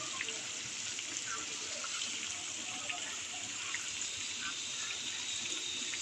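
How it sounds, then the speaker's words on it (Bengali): Layered flour khaja pastries deep-frying in oil over medium-low heat give a steady, close, dense sizzle with scattered small crackles and pops throughout. "এবার খাজাগুলোকে ভেজে নিতে হবে"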